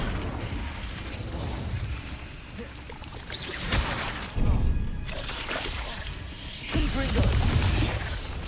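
Incendio fire spell cast in Hogwarts Legacy, a roaring whoosh of flame bursting out amid game combat noise, with several loud surges and a pouring, crackling rush between them.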